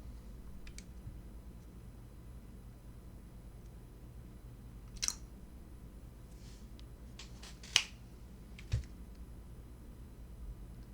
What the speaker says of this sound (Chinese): 打个响指